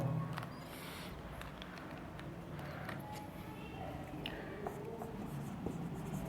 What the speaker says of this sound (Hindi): नहीं तो मैं यहीं पर लिखता हूँ।